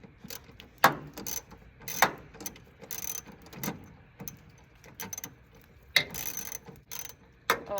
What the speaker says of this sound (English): This is a 14mm socket right here.